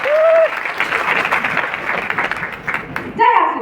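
An audience at a stage program in Deoghar breaks into sustained applause for about three seconds, bracketed by brief voices from the stage just before and after.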